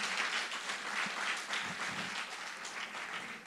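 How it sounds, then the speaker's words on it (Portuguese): A church congregation applauds steadily, a dense wash of many hands clapping in a reverberant hall, continuous and moderately loud throughout. "Pode aplaudir ao Senhor."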